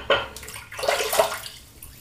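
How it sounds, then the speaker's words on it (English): Water from a tap splashes onto the face of a shaving brush in a few short, close pours, gentle and wet, with a sink-like splatter that trails off. "Just a touch of water onto the face of the brush."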